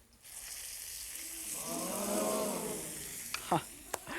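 Hissing, crackling sizzle of a rice noodle basket frying in hot oil swells and then eases, with a few sharp clicks toward the end.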